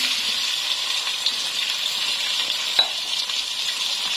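Chicken pieces frying in a pan for shahi chicken korma, a dense, even close sizzle running throughout with a couple of faint clinks, no voices.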